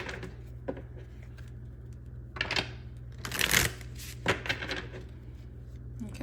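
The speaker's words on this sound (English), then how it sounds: "And we're going to get some more tarot cards out here." Tarot cards are shuffled by hand in several short riffling and sliding bursts, close and fairly quiet, with pauses between them and a faint background hum.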